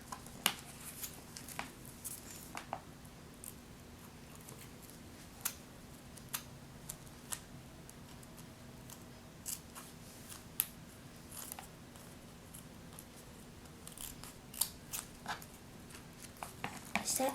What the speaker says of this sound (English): Now I just have to cut off the edges.